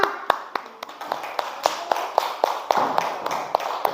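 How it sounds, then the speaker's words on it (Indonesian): A school class claps for group 2, a rhythmic run of sharp, regular hand claps punctuating a background of scattered clapping and murmuring voices. "Ayo, tepuk tangan buat kelompoknya Giang, kelompok 2"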